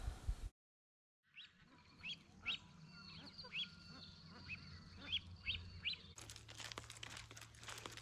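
Birds call at a lagoon campsite along the Savannah Way: a series of sharp chirps and quacking duck-like calls over a low ambient hum, followed by crackly noise.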